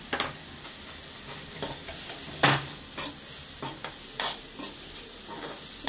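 Ground spices including cumin powder fry in a pan while being stirred: a soft, continuous sizzle carries occasional scraping and clinking spoon strokes against the metal, with no voices.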